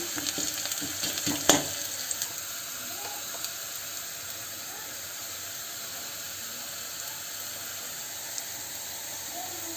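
Food fries in hot oil until golden brown, giving a steady close sizzle and hiss throughout, with a brief clatter of a utensil early on.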